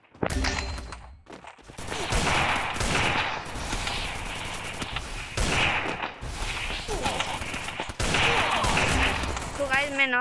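Bursts of rapid automatic gunfire in a shooting video game, loud close fusillades repeating in clusters across the clip, with a sharp ricochet-like whine near the end.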